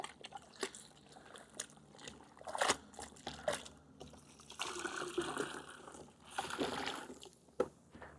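Water from a hose rinsing acid shampoo off a ceramic-coated car, a quiet irregular splashing and trickling with soft surges, fairly distant and low in level.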